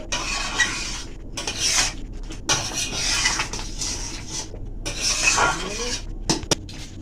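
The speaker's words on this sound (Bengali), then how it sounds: "খিচুড়িটা মিশিয়ে নেব ঘিটা দিয়ে" A spoon scraping and stirring shyama rice khichuri with ghee in a metal pot, repeated rasping scrapes and clinks at an uneven rhythm, close and fairly loud, with occasional talk.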